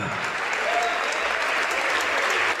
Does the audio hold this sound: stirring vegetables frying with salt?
no